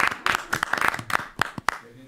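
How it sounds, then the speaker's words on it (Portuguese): A small group claps for the winning team at a technology career event, a few scattered, uneven hand claps over about two seconds, close by and fairly loud, with a voice faintly present. "uma salva de palmas"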